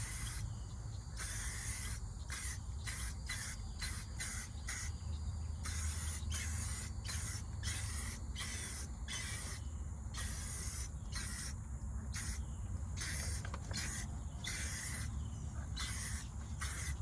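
A spray gun lays a first coat of paint on a car part in a rapid run of close, hissing bursts, with short gaps between passes over a steady low background hum.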